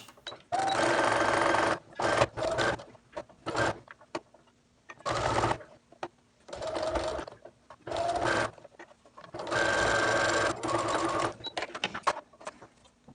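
A sewing machine stitches the bottom seam of a fitted fabric face mask at a quarter inch, sounding as several close, loud bursts of rapid stitching separated by short quiet pauses.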